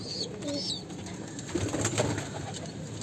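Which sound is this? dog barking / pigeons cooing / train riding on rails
pigeons cooing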